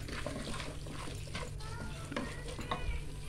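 Chicken is stirred with roasted masala in a pan, a soft scraping and gentle sizzle continuing under low room hum with faint background sounds.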